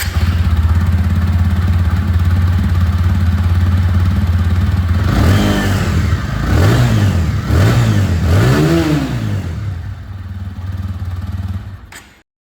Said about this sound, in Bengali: প্রতিটা বাইকে যেরকম আওয়াজ শোনাচ্ছি এর আওয়াজটা আপনাদের শুনিয়ে দিই